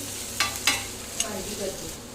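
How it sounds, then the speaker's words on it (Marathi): Sliced onion being stirred into a hot garlic tempering for spiced rice, soft scraping strokes of a spoon in the pan over a low sizzle, close and fairly quiet, with no speech. "आता थोडंसं हलवून मिक्स करून घेत आहेत ते"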